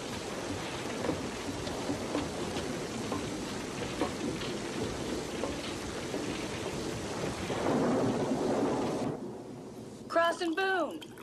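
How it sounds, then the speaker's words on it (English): Steady rain pours and a low thunderstorm rumbles through most of the stretch, with a louder swell of rain near the end, then a brief spoken line from a man. "Come on in out of the rain."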